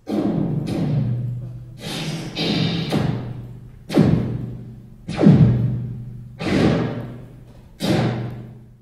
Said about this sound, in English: all the sounds of a plasma cannon in a library are kind of like this